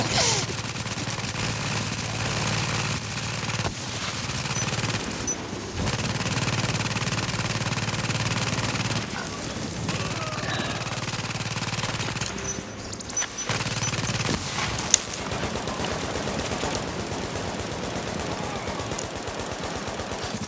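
Sustained automatic gunfire in the online shooter game The Division, Dark Zone mode, rattling in dense bursts for about twenty seconds with brief pauses, loud and close, with no talking.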